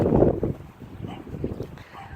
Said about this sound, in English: A bit windy out, but other than that, it's not a bad day out.